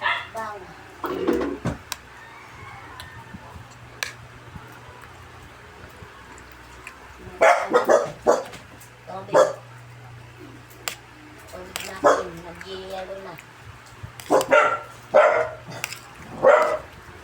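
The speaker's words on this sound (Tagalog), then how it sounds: "2 yung aso dito, maingay." Two household dogs bark in scattered clusters of sharp, fairly close yaps, with quiet gaps and a low hum between bursts and someone speaking at times.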